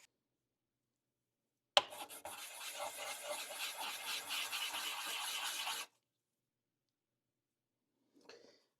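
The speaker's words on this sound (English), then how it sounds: "to make sure I get it cleaned up nice and flat on the belt sander here" A grip mod piece is sanded flat on a belt sander, giving one continuous close rasping grind of about four seconds that starts abruptly and then stops, followed by a faint brief scrape.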